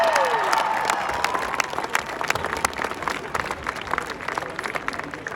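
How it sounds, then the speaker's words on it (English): A crowd at an outdoor high school marching band family night applauds for the Green Canyon band with a broad wash of clapping and some cheering, gradually thinning into scattered individual claps. "let's do one more round of applause for Green Canyon"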